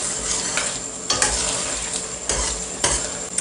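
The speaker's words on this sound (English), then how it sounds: "Let it fry for 2 minutes." Meat sizzles and fries in a pot for a Nigerian vegetable soup, with a steady hiss broken by several scraping stirs spaced about a second apart, close and moderately loud.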